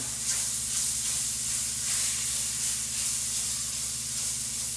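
Floured beef sizzling loudly in a pan while being turned and deglazed, a continuous close hissing spatter with gentle swells and a steady low hum underneath; no voices.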